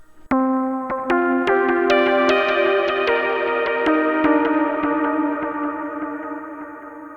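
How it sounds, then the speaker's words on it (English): A Virus TI synth lead with delay and Valhalla Vintage Verb reverb plays a quick melodic phrase whose notes blur into a wide, lingering wash that slowly fades away. "And some reverb from Valhalla DSP Vintage Verb"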